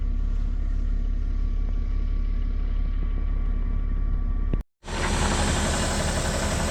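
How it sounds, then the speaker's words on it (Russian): A car engine idling during a fishing trip, a low steady hum that runs unbroken, stops abruptly for a moment and then resumes with louder broadband noise. "Машина работает, из-за этого не слышно."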